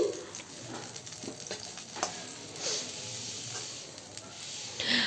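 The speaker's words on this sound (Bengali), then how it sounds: "এবার লঙ্কাটা হালকা করে ভেজে তুলে নিচ্ছি" Chillies fry lightly in oil left over from frying potatoes, cauliflower and egg, producing a quiet, close sizzle with scattered pops and soft stirring scrapes.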